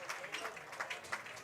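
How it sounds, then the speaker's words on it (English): A hometown crowd at a Newport Gulls vs Martha's Vineyard Sharks baseball game applauding steadily at a distance, a soft even patter of clapping beneath a commentator's voice. "ovation from the hometown crowd"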